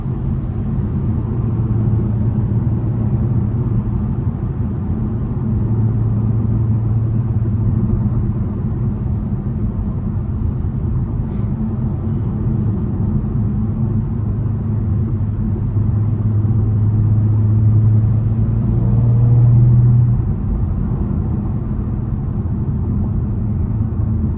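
Steady low engine rumble inside a 2023 Audi S5 Sportback while driving, a continuous droning hum with road noise at constant level and no talking.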